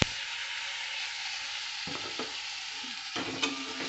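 Chopped tomato hits a pan of fried onion and garlic and sizzles steadily for a Bengali prawn-head paste dish. Two brief scraping stirs cut through the constant frying hiss.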